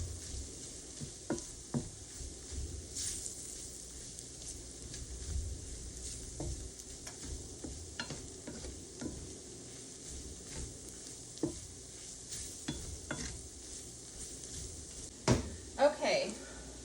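A sausage gravy of flour and fat simmers gently in a pan while being stirred, with soft sizzling and scattered scrapes and clinks under a nearby voice.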